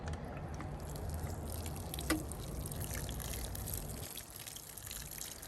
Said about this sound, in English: I'm gonna water it in.